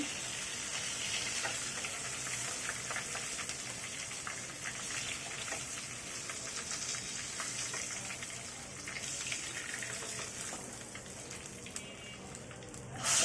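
Pieces of rohu fish belly frying in hot oil, giving a steady, dense sizzle with crackling spatters throughout, fairly close and unbroken.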